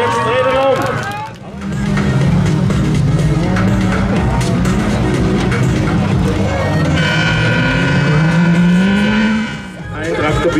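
A stock car's engine roars and shifts pitch as tires squeal through a spin on the race track, with an excited German commentator talking over it.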